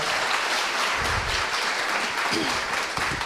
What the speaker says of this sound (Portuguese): Uma salva de palmas para a Vanessa